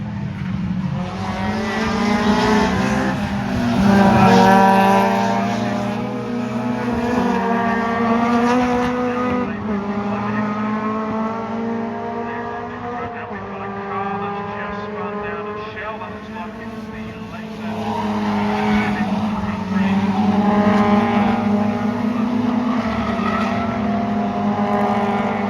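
Time attack race cars circle a track, engines droning and rising in pitch as they accelerate past, with a commentator talking continuously over the motor noise.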